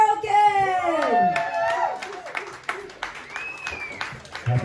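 A bar audience claps and cheers for the band, a dense burst of applause with whoops, mixed with talking and a few sung or sustained vocal tones.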